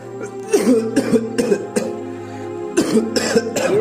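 A series of sharp, close coughs come in short bursts, several in quick succession, over a steady low hum.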